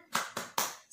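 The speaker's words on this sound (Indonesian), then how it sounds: "Tepuk semangat." A second-grade class doing a rhythmic spirit clap, three crisp, evenly spaced hand claps in quick succession, close and clear with a fourth just beginning.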